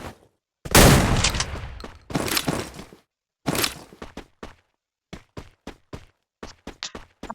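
Shots from an M590 shotgun in the Free Fire video game: two heavy blasts with long decays open the sequence, then a rapid string of sharp, close, loud cracks in short bursts, with no talk.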